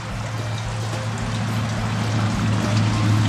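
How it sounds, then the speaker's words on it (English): After a good rain in Louisiana, runoff water pours and trickles past a house like a small brook, a steady near rush that swells slightly louder toward the end. "It literally sounds like we have a babbling brook at our house."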